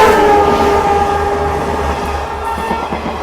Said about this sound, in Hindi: और ये देखो भाई क्या ही स्पीड है भाई साहब ट्रेन की